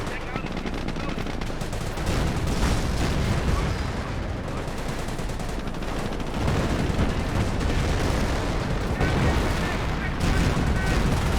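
Company of Heroes 17-pounder anti-tank guns and other weapons fire in a dense, continuous barrage of loud shots and booms, with rapid gunfire layered throughout and a voice speaking over the battle.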